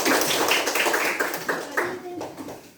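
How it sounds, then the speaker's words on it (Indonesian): Children in a school classroom clap together in a loud burst of applause, with vertical taps and some voices mixed in throughout, fading slightly toward the end. "Si tepuk tangan untuk Arya Wati."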